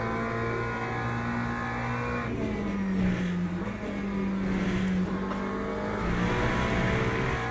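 McLaren GT3 race car engine in Le Mans Ultimate, a steady loud drone with shifting revs that dip and climb as the car accelerates, continuous throughout with no talk.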